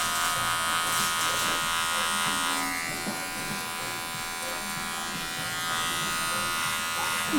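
A Wahl Magic Clip hair clipper buzzes steadily while cutting hair during a skin fade, close and continuous with a bright high hum, dipping slightly midway while someone talks over it.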